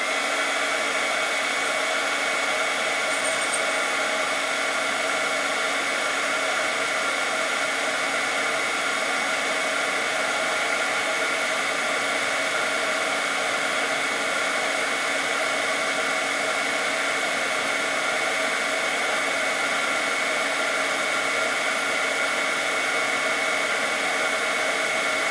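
A heat tool blows hot air onto shrink plastic, a loud, unbroken whirring hiss that holds constant without pause, no voices.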